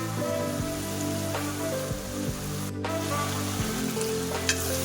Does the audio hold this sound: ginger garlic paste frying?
yes